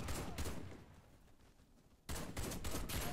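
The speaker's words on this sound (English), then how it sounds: "Who's shooting?" Gunfire in the video game Warface: loud, dense rapid bursts of shots, easing briefly in the middle before another heavy volley resumes, with no talking.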